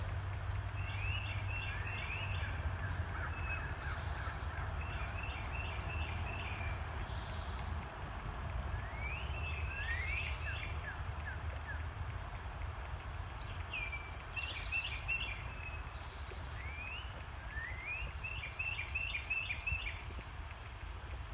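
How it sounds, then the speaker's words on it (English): Birds singing in a spring woodland, several short trilling phrases repeating every few seconds at moderate distance over steady low wind and rumble from outdoors. "But just listen to the bird sounds."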